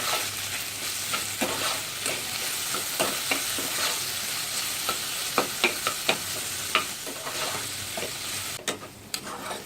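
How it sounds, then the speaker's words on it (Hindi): Potatoes seasoned with salt fry and sizzle in a pan, with a steady hiss beneath repeated scraping clicks of a spoon stirring through them, close and moderately loud with no talking. "अब हम इसे अच्छे से भून के और चेक कर लेंगे कि आलू पक गया है ना"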